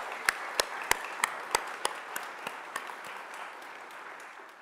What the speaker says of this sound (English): Can we give the chorus another round of applause?